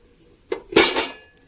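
A cake tin for a carrot and dates cake is set down onto a heated stovetop oven setup, making a brief, close metallic clunk and scrape followed by a short rattle.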